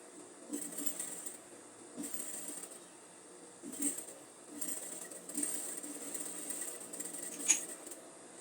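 A sewing machine stitches a lined dress seam in soft repeated bursts of quiet mechanical whirring, separated by short pauses, close but faint.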